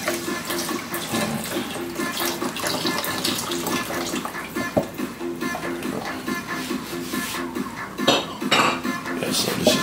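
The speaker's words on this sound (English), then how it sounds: "so this is my chicken broth that I'll be using to cook the rice" Chicken broth poured into a pot in a home kitchen for cooking rice; a steady close liquid splash and trickle with light clinks of pots and utensils throughout, no talking.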